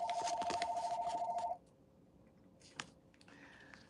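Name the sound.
telephone ringing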